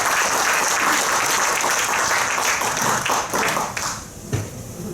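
Audience applause fills a hall during a spring training seminar in the Philippines, a dense steady round of clapping that gradually thins and tapers near the end, with a few scattered claps and faint voices underneath.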